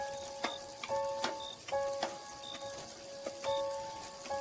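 Heavy rain on a stormy night in a horror tale, heard as a steady hiss with scattered drip-like ticks, under soft, sustained eerie tones.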